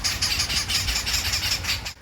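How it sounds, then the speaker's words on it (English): A bird in Costa Rica gives a rapid, steady series of high squeaky calls like a plastic toy chicken, repeating several times a second, close and fairly loud. "we had to figure out what was making this adorable plastic chicken bird sound"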